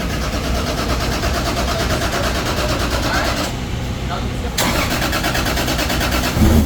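A rebuilt 1000 hp Toyota 2JZ drift car engine cranks and fires on its first start, then runs at a loud, rough, steady idle with a brief dip and a rev near the end, voices faint underneath.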